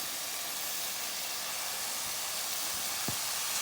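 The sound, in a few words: onions and carrots sizzling in a pan for chow mein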